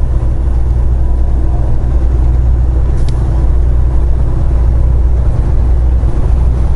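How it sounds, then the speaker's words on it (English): A semi truck with a trailer backs out of a Sara Lee lot in Haltom City, Texas, its diesel engine a loud, steady low rumble heard from the cab throughout. "I swung the trailer to the left, backing out."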